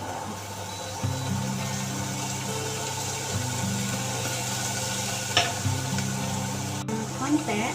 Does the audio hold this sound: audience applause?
no